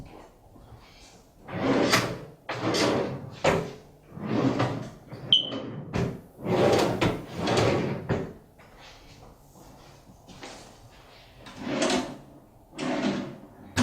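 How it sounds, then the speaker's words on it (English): A series of wooden drawers sliding open and shut, about a dozen bumps and thuds in an uneven rhythm, close by with no talking. "make sure that everything still opens and closes as it should. Starting with the drawers."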